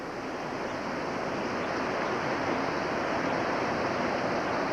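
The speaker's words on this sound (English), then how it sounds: "That's serious wind is what it is." Strong hurricane wind in Orlando during Hurricane Charley in 2004, a loud, steady broadband roar that holds without a break for the whole stretch and carries no voices.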